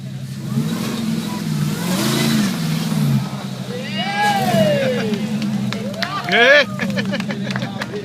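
A car revving hard as it drives fast past a crowd at the UsCarCamp 2013 car meet, engine rising and falling in pitch amid outdoor chatter and background voices.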